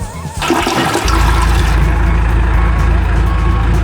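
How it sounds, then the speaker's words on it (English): A toilet in a desert ghost town flushes up close, a sudden loud rush of water that swells into a steady, full roar and keeps running to the end. "Just flush it and go with the flow."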